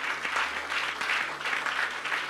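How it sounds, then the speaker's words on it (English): A church congregation clapping their hands together in a steady, continuous rhythm during prayer, loud and close, with no talk over it. "Can you clap your hands and pray for them, please?"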